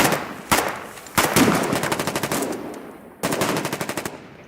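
Heavy machine gun fire from the Foxhole war game comes in rapid, loud bursts, with short pauses between the rattling volleys.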